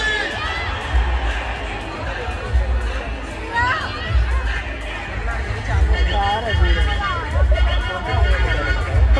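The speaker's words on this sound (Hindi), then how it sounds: "उधर देखो भीड़।" Dense crowd babble at a packed Dandiya night, many voices chattering and calling at once, with occasional louder shouts rising out of the continuous hubbub.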